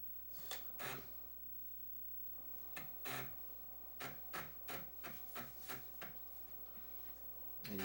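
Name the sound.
Amiga booting from internal floppy disk drive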